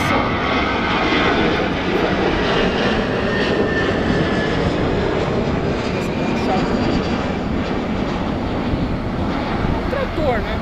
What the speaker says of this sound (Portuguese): Tem um da Gol taxiando ao fundo.